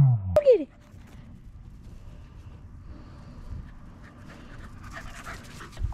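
A dog panting after fetching, close by: a brief sharp vocal burst at the start, then soft, rapid rhythmic breaths that continue quietly to the end.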